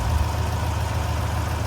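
A 1969 Rover P5B with a V8 engine idles smoothly and steadily nearby, a low even rumble with no talking.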